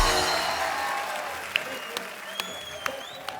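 A studio audience at a comedy talk show claps loudly and continuously to welcome an actress onto the stage. The applause fades gradually, ending in a few scattered, sharp individual claps.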